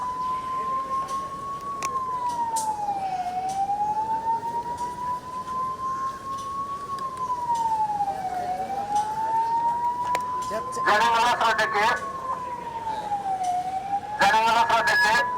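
A civil-defence mock drill siren wails up and down slowly and continuously at moderate distance, while a person speaks over it and a few sharp crackling bursts cut in near the end.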